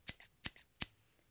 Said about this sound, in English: He said as his scissors went